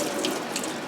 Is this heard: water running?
yes